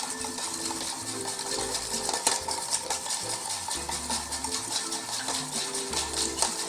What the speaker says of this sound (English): And you want to whisk it until it's well incorporated.